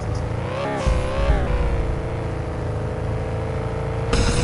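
A car accelerating in the Sheriff Park Ranger video game, its engine droning steadily with rising revs and a brief pitch swell early on, loud and continuous throughout with no talking.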